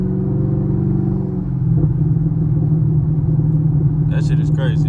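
A Chevrolet Camaro SS engine drones steadily as the driver lets off the gas on the highway, a loud low rumble with a falling tone, heard from inside the car, with a voice briefly speaking near the end.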